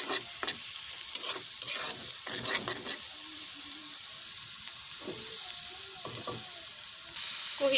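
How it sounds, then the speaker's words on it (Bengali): Turmeric frying in oil in a pan while being stirred, with several bursts of scraping and stirring over a steady sizzle, then quieter sizzling with a few faint clinks near the end. "হলুদটা ভালো করে ভাজা ভাজা করে নেই,"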